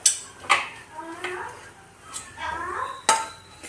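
A spoon scrapes and clinks against a pan while milk powder is stirred into walnut halwa: several sharp metallic taps among softer scraping strokes, with brief voice sounds in between.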